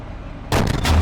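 A Leopard 2A4 tank fires a sabot round in Steel Beasts Pro: after half a second of low engine hum, a single loud, close cannon blast cuts in and rolls into a booming tail.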